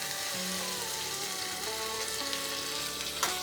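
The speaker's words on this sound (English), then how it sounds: "And I'll add some water to this." Loud, steady sizzling as water is poured into beans frying in masala in a pan, a dense crackling hiss with bubbling and a few sharper pops, no talk.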